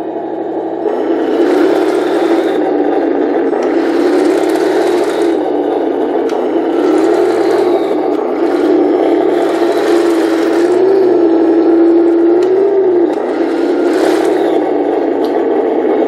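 Electric whine of a 1/16 Heng Long Merkava MkIV RC tank turret rotating at variable speed, a steady motor hum that rises and dips in pitch, with repeated bursts of higher gear whir, close and alone.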